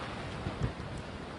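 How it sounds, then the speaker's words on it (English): Hurricane Irma's wind gusts roar during landfall on Marco Island, Florida: a dense, continuous rushing noise with a couple of stronger buffeting surges, heavy and close to the microphone. "when a gust comes through and it pushes this thing sideways"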